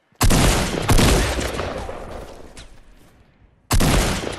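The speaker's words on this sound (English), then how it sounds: "we're in mid gunfight" Gunfire in a Fortnite gunfight: two loud close shots in quick succession, a long decaying echo, then another sharp blast near the end.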